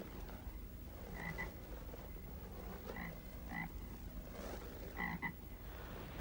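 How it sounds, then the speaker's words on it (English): Frogs croak at night by a lake, with repeated short bursts of croaks in loose clusters over a quiet, steady background hum. "It's just frogs, Susan."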